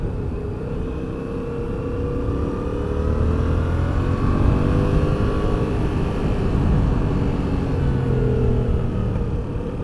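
A 2020 Yamaha MT-07 two-cylinder motorcycle on a riding run, its engine droning loud and close with steady wind rush and gently rising and falling revs throughout, and no talking.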